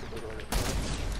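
Gunfire in the Fortnite video game during a squads match: a burst of dense, loud rapid shots kicks in halfway through and continues steadily to the end, after a quieter stretch at the start.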